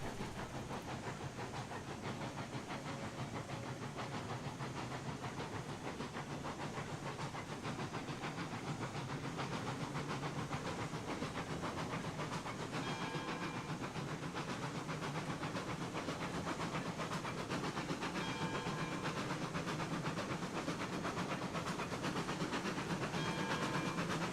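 A steam locomotive in the train game Railroads Online runs with continuous hissing steam and a rapid, even train rumble, steady and moderately quiet throughout with no talk.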